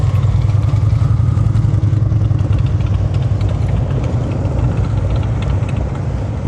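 A motorcycle rolling slowly through an advanced low-speed practice course in Texas, a steady mid-pitched engine rumble with faint mechanical clatter, close and constant throughout.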